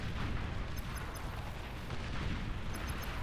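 A dense, continuous roar of chain explosions in the strategy game Beyond All Reason, booming blasts and artillery-like bursts layered into a steady loud rumble with faint high pops scattered throughout.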